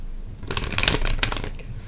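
A deck of tarot cards is shuffled by hand in a quick papery riffle lasting about a second, close and clear over a faint background hiss.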